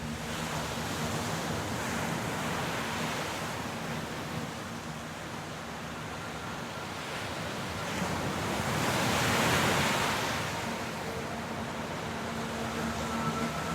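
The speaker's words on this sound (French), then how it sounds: "Il y a le bruit des vagues plein les oreilles quand on fait face au soleil." Ocean surf washes in a continuous broad roar, swelling louder midway as a wave breaks, with wind noise mixed in and no voices.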